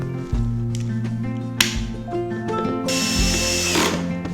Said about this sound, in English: Then you can go ahead and screw the back on.